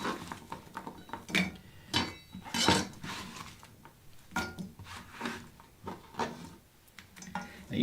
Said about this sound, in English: It's time to put them in a skillet and start frying them up.